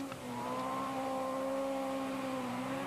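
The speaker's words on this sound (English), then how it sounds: "Rear-wheel drive star and astonished Paul Mulcahy drives his car around this bend as if it was on rails." A rear-wheel drive rally car on a forestry stage in Carrick-on-Suir takes a bend, its engine giving a steady, sustained drone at moderate distance with a slight dip near the end, no voices.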